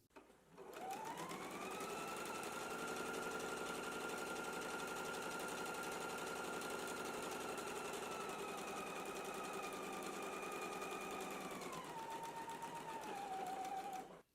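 A sewing machine runs one steady, continuous stitching pass along the center back seam of a skirt, a close, even whirring hum that winds down at the end.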